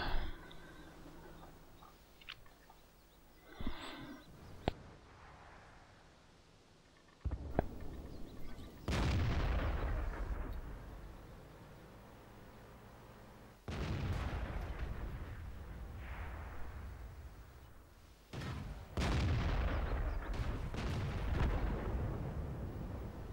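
In World of Tanks, a player's M4A3E8 Sherman comes under fire, with several loud, sharp cannon blasts and impacts at irregular intervals, each followed by a rumbling decay, between quieter stretches of engine and battle ambience.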